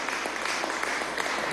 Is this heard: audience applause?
yes